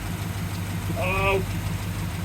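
A 1972 Jeep Wagoneer's 360 V8 engine idles with a steady low throbbing rumble, and a short tonal squeak or voice briefly rises above it midway.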